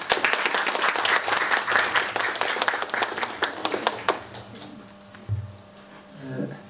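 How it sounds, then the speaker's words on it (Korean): A warm round of audience applause greets the head of the Bukgwangju tax office before his lecture on tax-saving, dense clapping that thins out and fades after about four seconds, with faint room noise following. "뜨거운 박수 부탁드리겠습니다."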